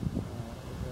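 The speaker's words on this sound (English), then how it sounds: "Very windy day." Strong wind buffets a residential roof and the microphone in low, rumbling gusts that stay steady through the brief moment.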